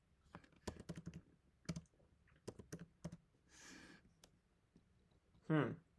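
Typing on a computer keyboard while working through an HTML coding exercise: scattered bursts of close, crisp key clicks with short pauses between them, plus a brief rustle and one sharper clatter near the end.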